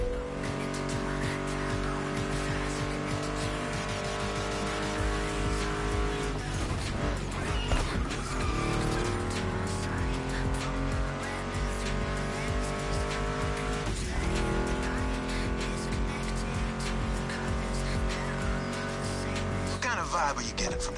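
A Ford Mustang GT muscle car engine roars and revs through gear changes with occasional tire squeal, loud and continuous, blended with rock guitar music and some talking over it.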